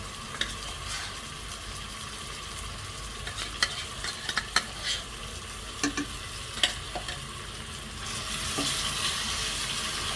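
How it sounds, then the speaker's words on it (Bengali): Ginger garlic paste sizzles in hot oil in a pan while being stirred for bhuna khichuri, a steady frying hiss broken by scattered spoon scrapes and clicks, rising slightly toward the end. "দিয়ে ভালোভাবে নেড়েচেড়ে মিশিয়ে নেব যতক্ষণ না পর্যন্ত এর কাঁচা স্মেলটা চলে যায়।"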